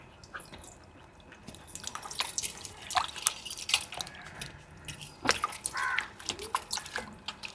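Raw mangoes scrubbed and rinsed in water, with close splashing, dripping and squishing sounds that grow busier over several seconds, without speech.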